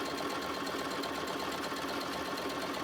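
A sewing machine stitches a quilt block for a Solare block-of-the-month design, a fast, even, quiet mechanical whirring hum that runs continuously and alone, without talk.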